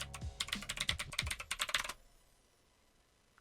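Rapid keystrokes as a password is typed on a computer keyboard while logging on to an older Windows PC, a steady clatter lasting about two seconds before falling to quiet.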